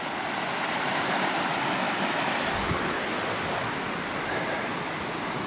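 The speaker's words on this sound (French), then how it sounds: "C'est le petit ruisseau qui nous a donné de l'eau, il est là." A small mountain stream rushes steadily along a GR10 hiking trail descending toward Cauterets in the Pyrenees, a dense, constant wash of flowing water close by with no pauses.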